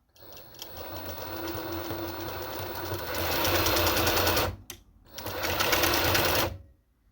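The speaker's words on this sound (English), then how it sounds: "I press to go hold it while giving a gas, and the machine goes in reverse." A Necchi sewing machine runs in reverse at high speed, a steady loud mechanical whir that briefly drops out near the end before resuming and then stopping.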